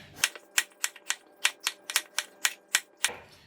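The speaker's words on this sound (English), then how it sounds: "we just cut like maybe quarter an inch thick" Knife slicing an old cucumber into pieces about a quarter inch thick on a board: a rapid, even series of about a dozen crisp, close chops.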